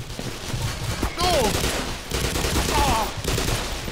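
Submachine gun fire in the Black Mesa video game rattles out in two short bursts against a busy game background.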